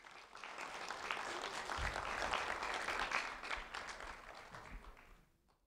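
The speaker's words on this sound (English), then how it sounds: "a round of applause for James Harris" A room full of people applauds a third-grade student being honored, steady dense clapping that swells slightly in the middle and then fades out at the end.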